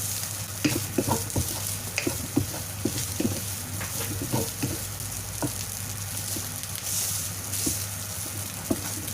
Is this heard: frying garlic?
yes